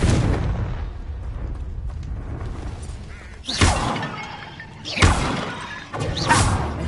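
Confringo explosive spell bursts in Hogwarts Legacy combat, three sharp blasts spaced about a second apart over a dense rumbling battle backdrop, loud and close with crackling debris trailing each hit.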